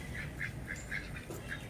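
A silver spangled Appenzeller Spitz chicken, a small Swiss breed, gives a run of short, nasal, evenly spaced calls, close and fairly loud with no talking.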